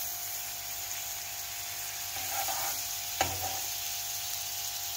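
Slices of honey bread frying in butter in a pan over a low flame, a soft steady sizzle with a brief scrape or clink of a utensil partway through.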